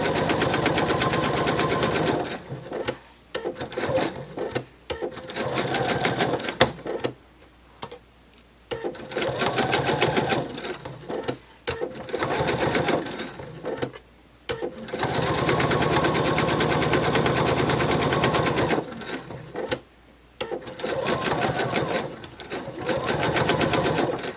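Sewing machine stitching the body seam of a fabric narwhal plush, running in repeated loud bursts of rapid, even needle chatter separated by brief pauses, close up with no talking.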